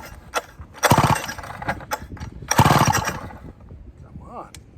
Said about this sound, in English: Choke, couple primes with the oiler. We are on.